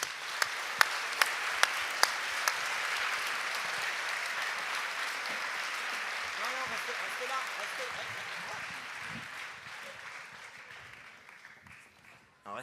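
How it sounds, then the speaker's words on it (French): An audience at a New Year's greetings ceremony applauds volunteers, opening with a few sharp, close claps before dense, sustained applause swells and gradually thins out, with voices murmuring faintly underneath toward the end. "je vais vous demander de les applaudir tous très fort"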